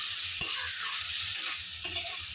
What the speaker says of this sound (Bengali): দেখুন পনিরগুলোকে একটু লাল লাল করে ভাজা করে নেবো